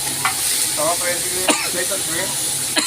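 Jilebi fish roasts on a tawa griddle, giving a loud, continuous sizzle with occasional spatula scrapes. People talk nearby over the frying.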